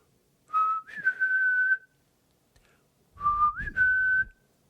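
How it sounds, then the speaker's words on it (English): A person whistles the Peter Pan tune in two clear, close phrases, each a rising note held steady, with a short pause between them. "I just want to hear the Peter Pan whistle from across the room"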